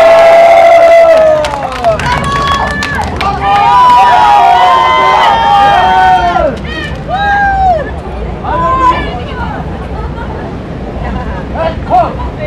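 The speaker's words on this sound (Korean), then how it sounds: "다시 한번 뜨거운 박수 부탁드립니다." A crowd at an outdoor Korean political rally applauds and cheers for a singer after a performance, with shouts and voices rising over a rough, continuous roar that carries on throughout.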